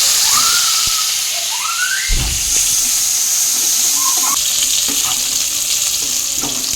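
Chopped onion, garlic and ginger frying in a pan, a steady loud sizzle with hissing steam and occasional clinks and scrapes of stirring.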